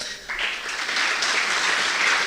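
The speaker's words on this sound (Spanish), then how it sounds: "Recibamos entonces con un fuerte aplauso a Víctor Rojas." Applause from an audience at a philosophy congress at a school begins suddenly and swells into steady, dense clapping that fills the room.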